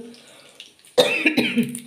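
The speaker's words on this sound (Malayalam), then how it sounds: "ചുമയും പിടിച്ച്" A single close, abrupt cough comes in a home kitchen during cooking, followed by brief rough throat noise. Before it there are only faint low background sounds.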